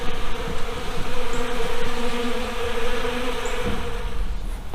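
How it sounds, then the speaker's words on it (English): Honeybees swarm around pollen feeders near their hives, producing a close, continuous, dense buzzing drone that stays steady throughout with no voices. "the bees are really flying all over the place, and they're really getting into the pollen feeders"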